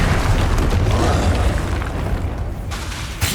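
A Confringo fire spell exploding in a wizarding video game, heard as a loud, sustained, roaring burst of noise that fills the whole clip and fades slightly near the end.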